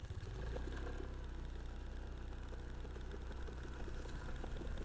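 A Honda Beat CBS ISS 2023 scooter engine pulls away from a stop up a gentle incline on light throttle, giving a steady low hum that holds throughout, close and continuous with no one talking.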